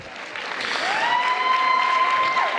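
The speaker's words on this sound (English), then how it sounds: "And also a round of applause for all of our teachers that helped make this happen as well" Audience applause for teachers at an 8th grade graduation ceremony, dense steady clapping filling the hall, with a sustained whistle-like tone rising over it partway through.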